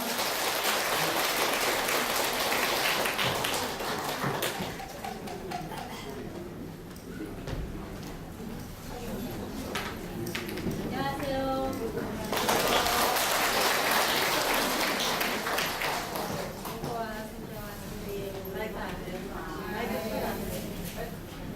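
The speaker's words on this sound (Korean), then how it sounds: "박수로 모시겠습니다" Audience applause welcoming Hong Mi-kyung Christina of the Uijeongbu diocese as she comes up to share her mission experience at a church event, steady broadband clapping across the whole span with voices mixed in.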